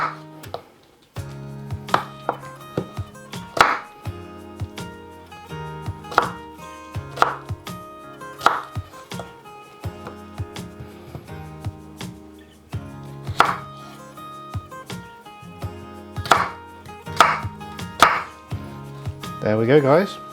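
Fresh pineapple being chopped into chunks on a cutting board, a series of crisp, close knife strikes in uneven bursts with short pauses, no talk.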